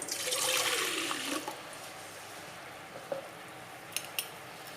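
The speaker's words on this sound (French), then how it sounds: "je vais mettre 30 centilitres de lait" About 30 centilitres of milk pour into a bowl or kneading trough for pizza dough, a gurgling splash for over a second, then quiet with a few small clinks.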